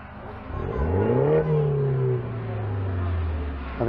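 Modified Mini cars rev their engines at a Mini festival show at Brands Hatch circuit, a loud rising engine note climbing then holding a long steady drone, close by, with crowd chatter faintly underneath.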